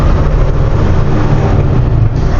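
Peterbilt 567 truck, a 2021 Renegade Classic with a manual transmission, pulling in fourth gear at around 10 mph, giving a steady, loud, low diesel rumble that holds constant with no break.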